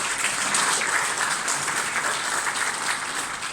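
A church congregation at a Christmas carol service applauding in praise, dense sustained clapping from many hands filling the room at steady loudness, then easing slightly at the end.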